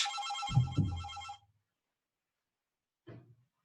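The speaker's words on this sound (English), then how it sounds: "Oh, that's my parents' phone." A telephone rings with an electronic ringtone: one longer burst, a pause of silence, then a shorter second ring, clear and moderately near.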